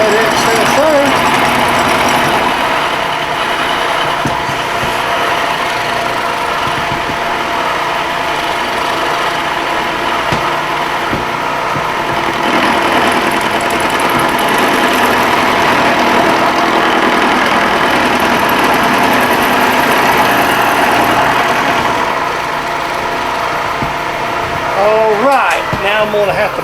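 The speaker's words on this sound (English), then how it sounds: "Then I'm going to go down here and mill off all that excess there." A milling machine cuts excess metal from a racing bushing, a steady loud mechanical grind and hum running continuously from start to finish with no talk.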